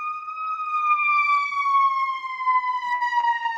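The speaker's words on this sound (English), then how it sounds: "Siren." An emergency vehicle siren holds a steady, slowly falling wail, loud and fairly close, with faint background noise beneath it.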